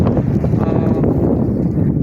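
Strong wind after a sandstorm roars steadily across the microphone, a loud, low rumbling buffet with no voices.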